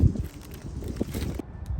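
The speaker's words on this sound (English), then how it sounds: "Sorry, it's kind of windy." Wind gusts buffet the microphone outdoors beside a 3rd-gen Toyota Tacoma, a low rumbling, uneven roar that drops away abruptly near the end.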